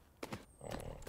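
Horse trotting in the video game Tales of Rein Ravine, a few soft hoof beats and a brief whinny-like burst over a quiet background, fairly close.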